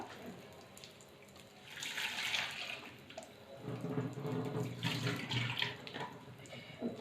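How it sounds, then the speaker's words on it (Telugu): Tamarind rinsed under a running kitchen tap: a steady, moderately loud rush of water that swells and splashes unevenly as the tamarind is worked in the stream, with no voice. "సో సారీ, చింతపండు కడుగుతున్నాను"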